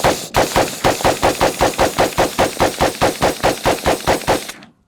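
An AK/AR hybrid rifle fires a rapid string of about twenty evenly spaced shots at steel targets, loud and close, ending abruptly as the magazine runs dry.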